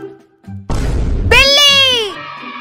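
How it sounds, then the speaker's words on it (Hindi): A cat's meow rings out loud and close: a sharp rustle, then a drawn-out, falling tonal mew lasting about a second. "बिल्ली आ गई। बिल्ली अब कर म्याऊ म्याऊ।"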